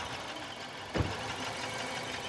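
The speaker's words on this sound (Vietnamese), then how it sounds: "Trời máy nổ đã không?" A used 2008 Hyundai Click automatic idles at a dealer in Saigon, giving a steady, even engine hum with one brief thump partway through and no talking over it.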